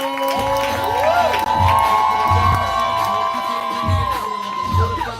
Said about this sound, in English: We're clapping. We're building energy to make all the noise for Ken Jones.